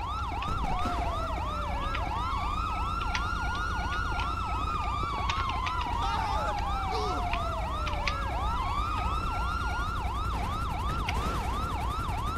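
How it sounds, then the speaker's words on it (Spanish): An ambulance siren in GTA V wails steadily and loudly throughout, with a cycling rise-and-fall tone that continues uninterrupted with no talking over it. "Hostia, ambulancia. Una ambulancia central."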